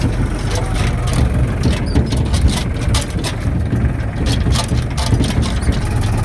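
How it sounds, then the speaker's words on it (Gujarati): Near Banas river, a fully loaded tractor drives between two hills, its engine giving a loud, constant low rumble throughout, with faint wind or rattle riding on top. "બે પહાડોની વચ્ચે ટ્રેક્ટર નીકળી રહ્યું છે."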